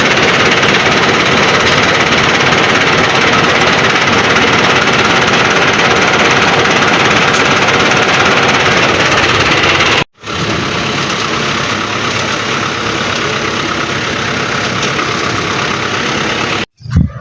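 A tractor engine runs steadily and loudly throughout, a dense continuous rumble that drops out briefly near the ten-second mark and again near the end before resuming.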